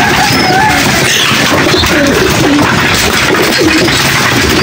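Pigeons or doves feed close by, with soft cooing and scattered chirps over a constant loud hiss of background noise.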